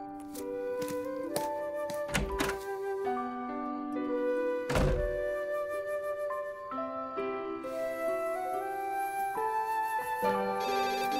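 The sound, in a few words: telephone ringing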